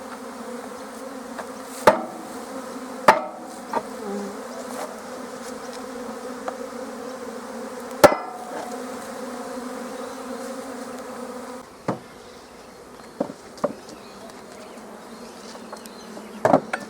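Honey bees swarm and buzz around an opened hive affected by chalk brood, with drone comb present: a steady, dense, close drone runs throughout, broken by occasional sharp knocks and clicks from handling.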